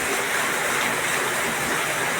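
Continuous rushing water gushing out of a well, a loud, dense broadband roar like a strong gush pouring steadily without pause.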